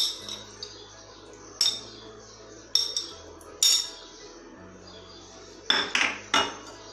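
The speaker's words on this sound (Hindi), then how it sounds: "फ्रूट कॉकटेल इसमें मिक्स करेंगे।" A spoon mixes fruit cocktail in a bowl for a milky doodh dulari dessert, striking the dish in sharp, spaced metallic clinks, with a quick cluster of knocks near the end over a quiet room.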